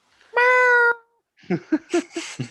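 A cat gives one clear, drawn-out meow, followed after a pause by a string of short chirping mews close by.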